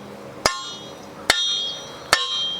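A truck trailer hitch is used as a hammer, striking three sharp metallic blows at uneven intervals, each ringing briefly before fading.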